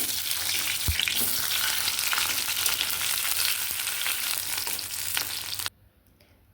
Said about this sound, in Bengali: এখন ফোড়নে শুকনো মরিচ তেজপাতা দিয়ে দিলাম।